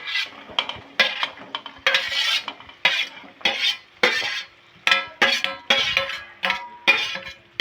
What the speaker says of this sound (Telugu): వేగిన తర్వాత బెండకాయ ముక్కలు దాంట్లో కలిపేసుకోవటమే